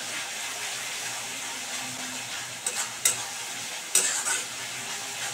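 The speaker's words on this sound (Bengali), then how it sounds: "মশলাটা আমি কিন্তু খুব ভালো করে কষাবো যতক্ষণ না মশলা থেকে তেল ছাড়ছে।" Spice masala stirred and fried in oil for a Bengali chicken curry with potatoes: a steady soft sizzle throughout, with a few brief scraping stirs of the spoon near the end.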